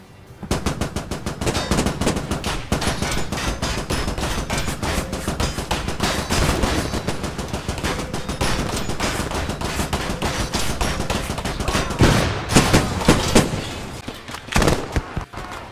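Dense, loud automatic gunfire from the military shooter video game Squad, with machine-gun bursts and single shots rattling almost continuously, growing heavier near the end.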